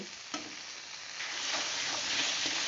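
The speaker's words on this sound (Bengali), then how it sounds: "ওর মধ্যে একটু জল দিলাম আবারও ভালো করে কষিয়ে নেব" Cauliflower and potato sautéing for a katla fish curry after a splash of water, a continuous hissing sizzle that grows louder and denser, with a spatula stirring and scraping at a few points.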